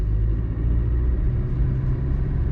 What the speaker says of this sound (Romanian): Ambreiaj la podea, treapta a doua.